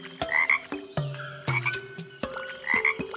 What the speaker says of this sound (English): Look, a family of frogs are hopping from one lily pad to the other.